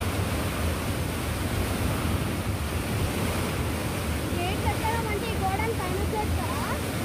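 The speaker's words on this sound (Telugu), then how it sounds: "ఈ వాటర్ ప్రెషర్ ఏదైతే ఉందో మనకి వెనక సైడ్ నుంచి మనకు వాటర్ ఫ్లో అయితే చూడండి" Water rushes steadily out of a pump at Akkampalli reservoir as a loud, unbroken roar, with a few faint bird chirps rising over the torrent in the latter half.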